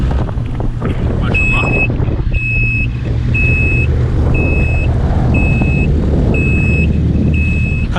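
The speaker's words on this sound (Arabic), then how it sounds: "تسمعوا صوت الدباب" Yamaha FZS WaveRunner jet ski engine running loud and steady at close range, a broadband rumble with wind buffeting, while a repeating electronic beep chirps about every half second; a brief spoken exclamation comes early.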